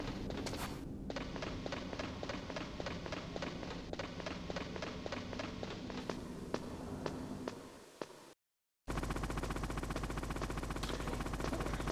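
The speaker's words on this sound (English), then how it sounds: "Sounds like some intense rotors." Helicopter rotors in the video game Metal Gear Solid chop in a steady, rapid rhythmic pulse, loud and close, with a brief dropout before the beating resumes.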